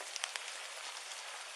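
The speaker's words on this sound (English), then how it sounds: "It's raining." Rain falls outdoors in a residential neighborhood, a dense steady hiss with a few sharper drip ticks near the start, quiet and without voices.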